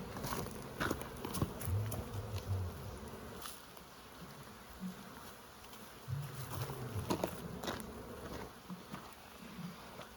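Honey bees buzzing near an outdoor beehive in Ontario, low droning hums that rise and fade as individual bees fly close past, over a quiet background with occasional handling knocks.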